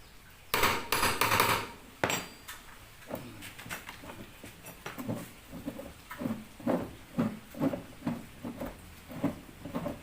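A T-handle screwdriver is struck again and again to loosen a stubborn, worn screw on a Polytron washing machine. A loud burst of blows comes first, then a run of evenly spaced metallic knocks at close range, with no talking.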